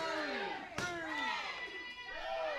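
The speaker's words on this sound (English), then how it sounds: "Listen to the crowd" Spectators at an independent wrestling event react after a powerbomb with a mix of shouts, excited chatter and children's voices. A single sharp slam lands early, and the crowd noise stays busy and moderately loud throughout.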